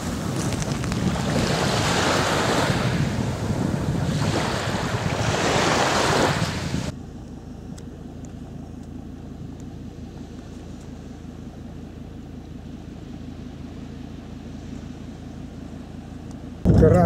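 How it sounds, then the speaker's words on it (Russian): Rough Sea of Azov waves crash and surge under buffeting wind roaring across the microphone, then the noise drops to a quieter, calmer wash. "Сегодня Азовское море суровое."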